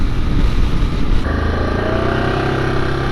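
A 2019 Yamaha Grizzly 700 ATV engine runs steadily and close by, its low rumble shifting tone about a third of the way in and then holding an even drone, with wind noise over the microphone throughout.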